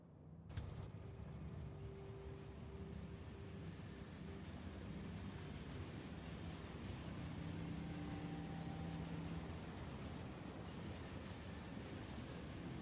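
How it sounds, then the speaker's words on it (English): Trains run along the rails in the factory-building game Factorio, a steady rumbling rail drone with faint rhythmic clatter that continues at an even level throughout, with no talk. "Forgot just how fast trains are in Factorio."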